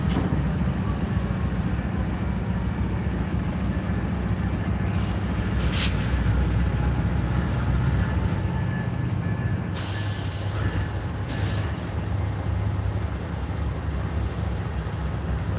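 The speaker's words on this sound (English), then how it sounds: "Here comes the remote control locomotive." A Norfolk Southern remote control locomotive approaches through a rail yard, a steady loud low rumble and engine drone with wheel noise, brief brake hiss bursts in between.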